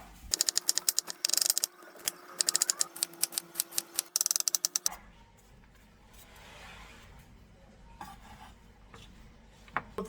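Knife slicing an onion into rings on a board, quick bursts of crisp, rapid chopping taps for about five seconds, then fainter scattered cuts.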